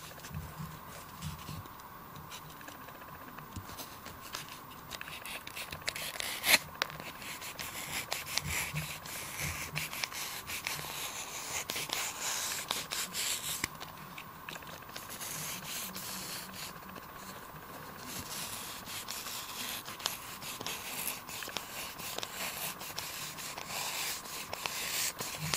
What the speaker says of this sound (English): Now we're gonna go ahead and bevel the edges.